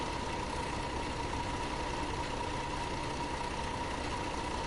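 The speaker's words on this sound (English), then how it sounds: "you suddenly hear the engine when the doors are open" A tour bus engine idles steadily with its doors open in the Tourist Bus Simulator game, a constant low rumble with a faint whine, unbroken and without voices.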